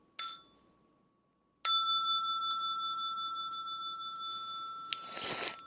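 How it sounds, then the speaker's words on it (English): A small meditation bell is struck twice, first a brief, quickly damped ding, then a clear ring whose bright tone hangs and slowly fades, ending with a soft rustle. "And I'm going to invite the small bell for stretching and massage."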